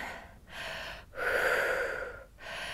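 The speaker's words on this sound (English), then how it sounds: "just breathing." Heavy breathing from someone holding a position during a low-impact cardio workout, with three or four deep, audible breaths in and out, close and clear, with no talking.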